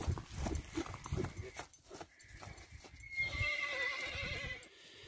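A horse at a horse market in Özgön, Kyrgyzstan, whinnies in a long, loud, wavering neigh, preceded by uneven clip-clop of hooves and handling noise close by.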